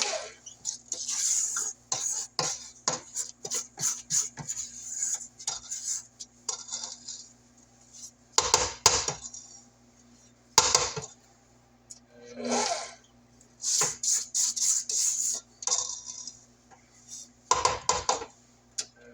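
Batter for a passion fruit pound cake is scraped down in a mixing bowl with repeated clinking, scraping clatters in irregular bursts and a faint steady hum underneath, close and fairly loud.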